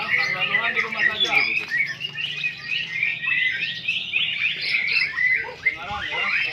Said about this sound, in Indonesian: Dengaran ya, suara burung. Ini aktif.